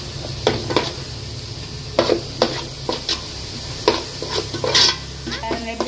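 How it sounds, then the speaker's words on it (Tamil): Ginger and shallots sautéed in a pan for prawn spaghetti: a loud, close sizzle cut by frequent scraping stirs in uneven bursts, with metal utensil clatter and no speech. "இஞ்சி உள்ளில பச்சை வாசனை போக நல்லா வதக்கணும்."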